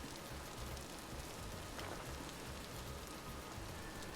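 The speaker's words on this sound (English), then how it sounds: "It's all the damn rain." Rain in the video game Vintage Story falls as a steady, even hiss of drops on the ground, continuous and soft with no other sounds.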